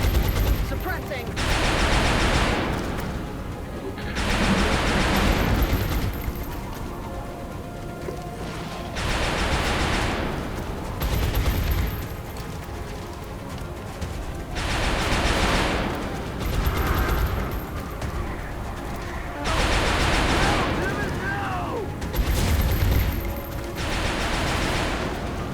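Bursts of gunfire from an XCOM: Long War game battle, heavy volleys recurring in roughly regular waves over half a minute, loud and close, with voices talking between and over the shots.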